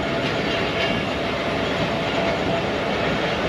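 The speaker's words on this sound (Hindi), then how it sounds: "ट्रेन चल पड़ी कला सत्तार शाह रेलवे स्टेशन से।" Ravi Express train pulling out of Kala Sattar Shah railway station on the Lahore to Nankana route, a steady loud rumble and rail noise with no break.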